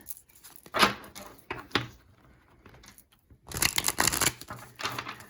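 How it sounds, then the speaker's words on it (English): Quick bursts of tarot cards being riffled and bridged, crisp papery rattles in a few short runs with pauses between, close and fairly loud. "I'll just shuffle the deck super duper quick"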